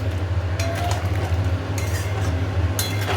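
Spiced cauliflower curry sautés in a pan, a steady frying hiss and low rumble with occasional scrapes and clinks of a spoon against the pan.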